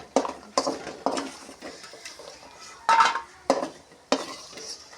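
Food dry roasting in a pan is stirred with a metal utensil, giving repeated scraping and clinking strokes, loud and close, in an irregular rhythm with no talking.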